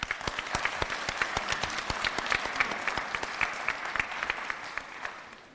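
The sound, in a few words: audience applause for graduates at pinning ceremony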